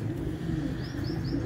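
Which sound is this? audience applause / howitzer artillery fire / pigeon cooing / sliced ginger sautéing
pigeon cooing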